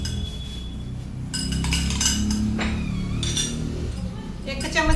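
A spoon clinking against a bowl while curd is added for a multani mitti face pack, several bright metallic taps and scrapes in irregular clusters, with a person talking alongside.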